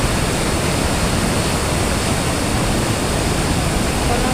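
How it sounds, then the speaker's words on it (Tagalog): A waterfall roars with a dense, continuous rush of water, loud and unbroken throughout, with no other sounds standing out. "Parang waterfalls."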